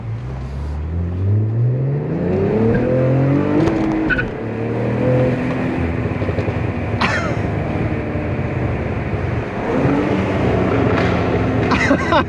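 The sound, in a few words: Cadillac CT4-V Blackwing car engine accelerating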